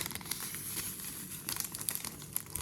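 Quiet crinkling of a small paper packet of vanilla sugar, soft crackles and rustles coming in uneven bursts close by, with no talking.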